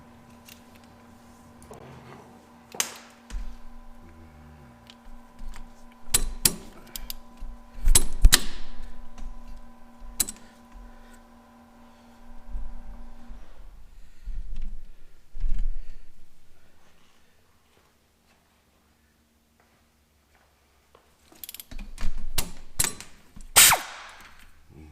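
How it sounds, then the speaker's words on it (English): 17 mm brake caliper bolts loosened and removed on a Jeep front brake: sharp metallic clicks and clunks from a wrench, scattered bursts of ratcheting and handling noise, a low steady hum early on, then quiet before a final cluster of clanks. "remove the caliper bolts, and there's two of them, and in this case they are 17 millimeter. So I'm going to break these loose and remove them."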